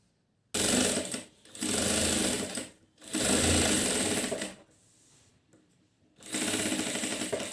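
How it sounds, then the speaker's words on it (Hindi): Sewing machine running in several sustained bursts with short pauses as it stitches around attached fabric strips made from leftover cloth scraps, loud and close with no talking. "उसके बाद हम इसके चारों तरफ सिलाई लगा देंगे"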